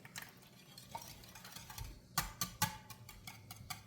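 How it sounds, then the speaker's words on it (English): Buttermilk, milk, eggs and melted butter for pancakes are whisked in a bowl, giving quiet, quick ticking clicks of the whisk against the sides in an uneven rhythm, with a few sharper taps partway through. "Whisk, whisk, whisk."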